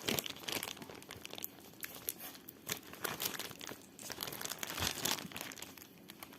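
A plastic zip pouch from a diamond painting kit is pulled open at close range, giving a steady run of crinkling and rustling plastic with a few sharper crackles throughout.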